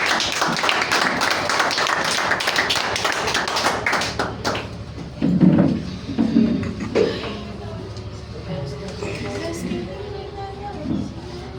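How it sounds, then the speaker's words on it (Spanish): Church congregation applauding after a call from the pulpit, dense clapping for several seconds that thins out as thumps and voices take over toward the end. "dale un aplauso al Señor"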